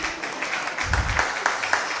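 A hall audience at a Ramanavami celebration applauds after a performance, steady scattered clapping at moderate distance with a brief low rumble midway.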